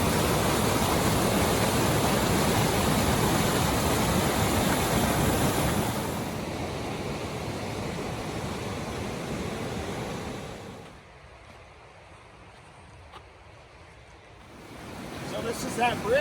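Deschutes River flowing beneath a footbridge on a trail in Bend, Oregon, a steady broadband rush that is loud at first, eases midway, nearly drops out briefly, then swells again, with no talking.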